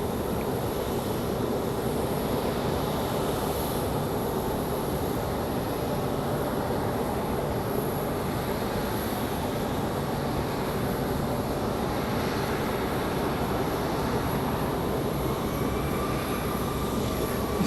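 Airliner engines drone steadily at Raleigh Durham airport as an A319 pushes back for departure, a continuous broad roar with a faint high whine, loud and unbroken with no talk.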